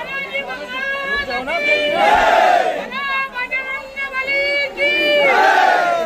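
A large crowd of devotees waiting for darshan of Dhirendra Shastri at a Hanuman katha raises loud, overlapping shouts and chant-like calls in surging waves, close and dense.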